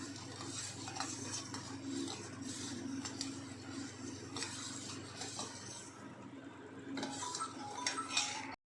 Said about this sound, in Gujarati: હવે આપણે મિક્સ કરી લેવાનું છે આ રીતે